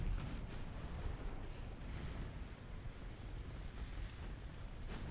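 Heavy naval gunfire from warships in the video game Ultimate Admiral Dreadnoughts, a dense continuous rumble of booming broadsides and explosions with no voices.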